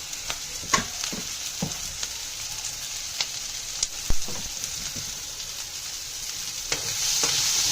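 Onions and curry leaves frying in oil for Bombay chutney, a soft continuous sizzle punctuated by scattered sharp clicks and pops of a spoon stirring in the pan, close and fairly quiet.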